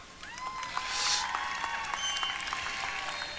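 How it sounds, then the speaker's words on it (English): A graduation ceremony audience at a military institute applauds in a far-off, steady patter of many hands. Scattered cheers and whistles rise above the clapping. "So, round of applause."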